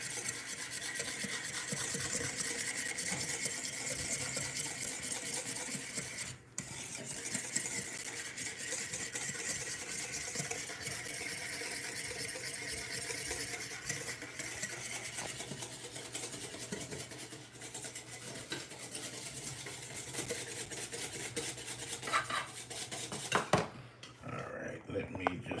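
Clarified butter sauce for eggs Benedict being whisked steadily by hand, a continuous close scraping and rasping of whisk against bowl that runs the whole time with only a brief pause, while a voice talks over it.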